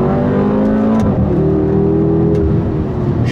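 The twin-turbo, twin-scroll engine of a 2012 BMW X6M pulls hard under throttle, a loud, close, steady roar that drops briefly and then climbs again, with a faint turbo whir above it.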